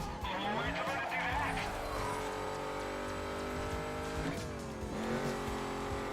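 A Ford Mustang racing in Need For Speed Carbon, its engine droning and shifting pitch as it revs, with tire squeal mixed in and a voice talking over the steady car noise.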